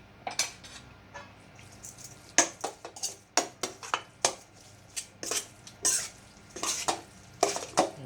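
Thai noodle salad is tossed with chili powder and ground fish by hand-held utensils, producing irregular close scrapes and clatters against a bowl, some sharp and loud, with short gaps between them.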